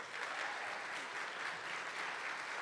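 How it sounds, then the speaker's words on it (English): Sustained applause from a conference audience at a renewable energy and sustainability event, an even wash of clapping heard from some distance, fairly soft and unbroken throughout. "Give them a round of applause, man."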